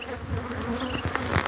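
A dense, steady buzz of many honeybees clustered on the side of a hive at a bee ranch, close and continuous with no voices.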